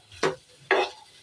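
Chicken sautéing in a pan is stirred with two distinct scraping strokes, each a short burst of sizzle over a quiet background.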